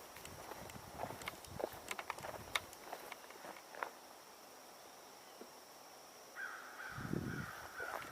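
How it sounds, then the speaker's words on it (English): American crow cawing outdoors, faint and distant, heard over scattered footsteps, clopping and soft rustling, with a rougher cry near the end. "American crow."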